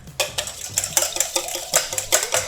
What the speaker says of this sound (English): Then we're going to beat an egg.